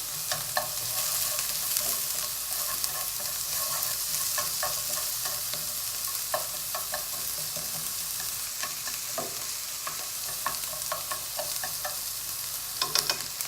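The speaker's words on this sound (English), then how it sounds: "just let the onions soften and caramelize a little bit. Yep, just sweat the onions out." Onions sauté in a pan, a steady close sizzle and crackle that runs throughout, with scattered light stirring taps and scrapes and no voices.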